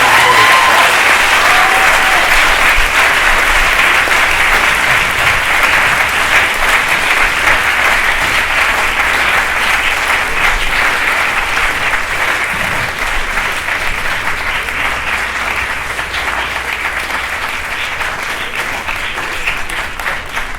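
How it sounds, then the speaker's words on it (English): An audience at a film panel discussion gives a long, steady round of applause for a teacher, Mr. Brocklehurst. The dense clapping stays loud and even throughout, fading only slightly toward the end. "We have a big round of applause for the Mr. Brocklehurst."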